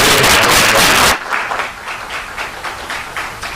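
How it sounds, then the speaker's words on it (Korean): A loud burst of applause for about a second at a press conference, cut short, followed by quieter scattered clapping and room noise. "박수 한번 주시죠"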